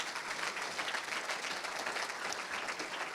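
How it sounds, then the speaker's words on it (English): A conference audience applauds in Copenhagen, filling the hall with dense, even clapping that holds steady for several seconds without any voices rising above it. "So let's have another round of applause."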